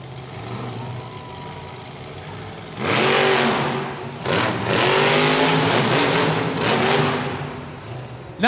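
At a Monster Jam stadium event, a monster truck engine roars in repeated loud revving bursts during a reverse wheelie in two-wheel skills. A steady engine rumble and crowd noise run underneath.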